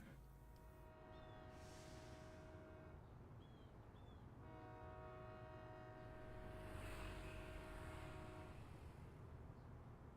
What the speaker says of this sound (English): The horn on the HSP is very good, Asahuo